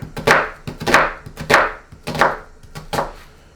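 A knife chops through an onion on a cutting board, giving six distinct, fairly loud thuds in a steady, unhurried rhythm with no talking.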